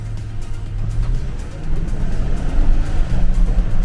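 A Chevrolet Suburban's 5.3 V8 rumbles on a Miami test drive, a deep steady drone that swells slightly as it pulls, heard from inside the vehicle with a voice over it.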